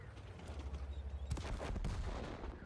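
World of Tanks tank battle gunfire: a sharp cannon blast near the middle followed by a second heavy shot, over a steady low engine rumble with scattered distant firing.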